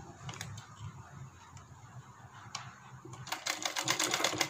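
A sewing machine stitching a heart-shaped blouse neck design, a soft steady whir with faint ticking that grows into a louder, busier rattle of rapid stitches near the end.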